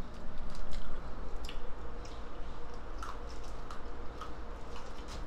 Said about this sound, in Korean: 아삭아삭 맛있어.